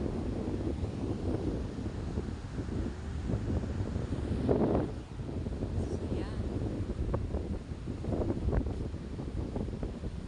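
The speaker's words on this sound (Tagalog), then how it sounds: "Ang lakas po ng hangin." Strong wind gusts buffet the microphone at the seashore in bad weather, a continuous loud low rumble with brief swells, while a person talks over it.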